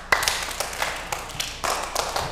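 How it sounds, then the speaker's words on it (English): Children clapping in a church service setting, a series of uneven, scattered claps and taps with irregular rhythm, moderately close and fairly quiet, no talking over them. "Why don't you practice clapping and show them?"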